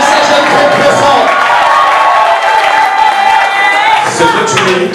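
Wedding guests cheer and clap at an official marriage celebration, a dense, loud crowd sound with whoops and shouts running steadily throughout, with voices mixed in.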